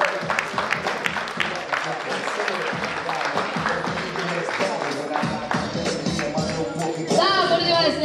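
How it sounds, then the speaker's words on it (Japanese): An audience claps warmly after a women's double dutch final, dense continuous applause with an announcer's voice over it and a louder surge near the end. "大きな拍手"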